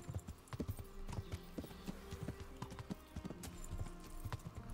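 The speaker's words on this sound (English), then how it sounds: "Es que soy nuevo montando a caballo." Horse hooves gallop at a steady clip-clop in the medieval video game Kingdom Come: Deliverance, close and fairly loud, with repeated rhythmic thuds running through the whole stretch over a low game soundscape.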